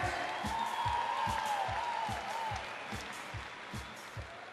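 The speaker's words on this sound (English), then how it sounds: "I want to keep that round of applause going for our next rider" A crowd at a BMX park final applauds steadily, the clapping fading slightly toward the end, while a low rhythmic thumping beat plays underneath.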